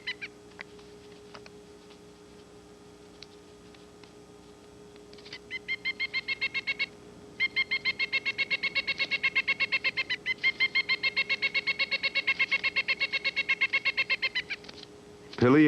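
Pileated woodpecker chicks calling from a duplex nest hole in a large standing snag in old-growth forest, with faint scattered chirps at first, then long runs of rapid, rhythmic, insistent begging calls that grow louder, under a steady low background hum.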